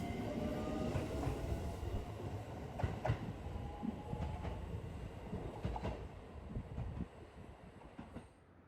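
A train rolls through a small rural station in central Japan near Nihon Heso Koen, with steady rumbling wheels, rhythmic clicks over rail joints and faint squeals, close and continuous before easing off at the end.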